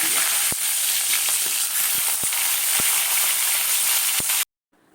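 A fish head coated in salt and turmeric fries in hot mustard oil, giving a loud, steady close sizzle with occasional sharp pops and crackles, then stopping abruptly.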